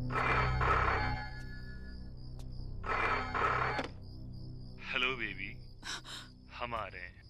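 A telephone rings twice indoors in two long trilling bursts, followed by gasps and breathy sounds from a woman.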